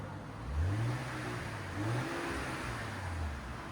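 A 2026 RAM 1500 pickup with the 3.0L Hurricane inline-six and stock exhaust revs in several short, rising pulls, fairly quiet and muffled, heard up close with no talking.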